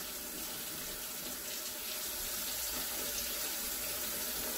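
Hot water runs steadily through a Mercedes 450SL auxiliary air valve, a continuous close hiss and splash that stays even and unbroken throughout, with no talk.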